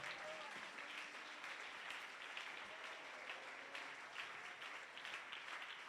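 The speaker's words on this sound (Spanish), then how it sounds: "Dele ese aplauso al Señor." A church congregation applauds during a Spanish-language sermon, a continuous, even patter of many hands clapping that carries on steadily for several seconds without pause.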